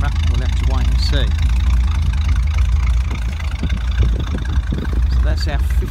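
A 1956 Ford Fairlane Crown Victoria coupe idles steadily with a deep, rumbling exhaust, close and constant, with brief voices over it.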